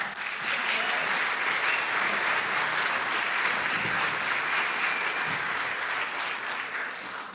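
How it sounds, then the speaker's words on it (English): Sustained audience applause at a community band Christmas concert, dense and steady throughout, with a few faint voices mixed into the clapping. "Give yourselves a round of applause."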